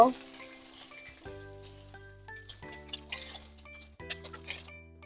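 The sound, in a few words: rohu fish frying in oil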